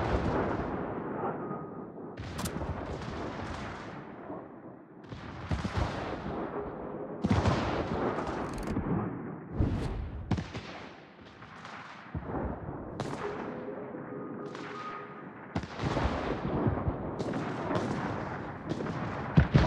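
Naval gunfire in a clan battle video game, with repeated loud booming shots and blasts recurring every second or two over roughly twenty seconds, no voices heard.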